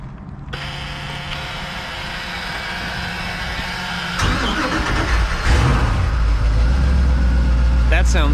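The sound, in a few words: Crusader 8.1 engine starting and running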